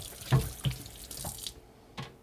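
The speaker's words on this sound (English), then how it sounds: "Give my hands a quick rinse." Hands are rinsed under a kitchen tap, with brief splashing bursts of running water, quiet and close, stopping after about two seconds.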